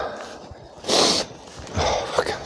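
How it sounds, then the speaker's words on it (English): Someone outdoors blows their nose in two short, forceful bursts of breathy, sputtering air, the first louder than the second, with quiet background between them. "I blow my nose."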